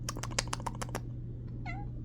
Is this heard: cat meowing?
yes